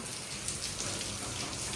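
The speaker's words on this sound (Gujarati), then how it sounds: "ભાઈ જોરદાર વરસાદ થઈ ગયો છે ચાલુ" Heavy rain falls steadily, a dense continuous hiss of drops striking surfaces close by, even in loudness throughout with no voices.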